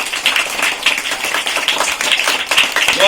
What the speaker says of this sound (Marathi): तुम्ही सर्वांनी सत्कार होईपर्यंत टाळ्या वाजवायच्या